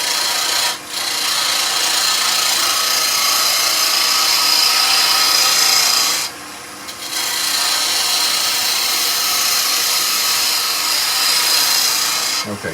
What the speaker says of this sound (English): I'm just going to rough down with the bowl gouge just till we got a flat surface